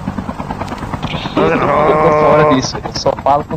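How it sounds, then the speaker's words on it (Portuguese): A helicopter in a shooter video game, its rotor chop heard under loud nearby talk. "Ó, o helicóptero tá miado."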